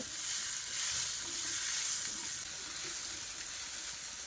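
Sago pearls frying in hot ghee in a pan over low to medium flame, giving a steady, even sizzle that holds throughout with no talking.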